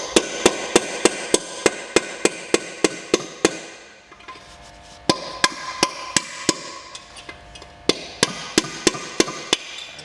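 Bearings are pressed into a Ford Fiesta gearbox casing with a series of sharp, evenly spaced metallic hammer taps, close and loud, pausing briefly mid-way before the steady rapping resumes.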